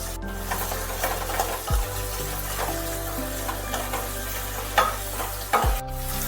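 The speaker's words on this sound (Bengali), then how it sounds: "গাজর আর বিনস হালকা করে ভেজে তুলে নিতে হবে।" Carrots and beans stir-frying lightly in oil left from frying potatoes, with a steady close sizzle and scraping stirs, plus a couple of sharp utensil knocks.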